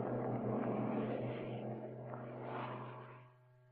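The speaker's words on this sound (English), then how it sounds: "The aircraft is accelerating to a takeoff speed of 139 knots under its own power." A Douglas DC-7 airliner in an FAA crash test accelerating to takeoff speed under its own power, a steady droning engine roar with a strong low hum that fades off near the end.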